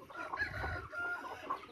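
Backyard pet chickens cluck softly, faint and somewhat distant, with brief higher calls over quiet outdoor background and no talking.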